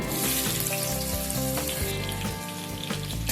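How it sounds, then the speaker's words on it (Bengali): Long-cut potatoes crackle loudly in hot oil tempered with five-spice for a Bengali fish curry, a dense, continuous close sizzle with no talk. "আলুটাকে সামান্য একটুখানি ভেজে নেব।"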